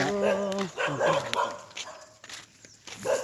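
A dog barks in a few quick, yappy bursts nearby, followed by scattered softer yelps and background noise.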